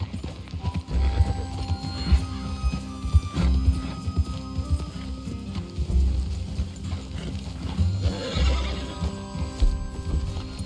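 Horses in the Red Dead Redemption 2 video game clip-clop at a walk and whinny, with steady uneven hoofbeats close by, punctuated by a couple of neighs and a low background hum.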